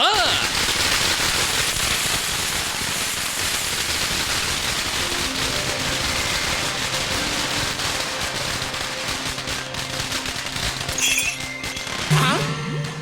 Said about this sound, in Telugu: నాకు ఈ టపాసులు అంటే కొంచెం భయం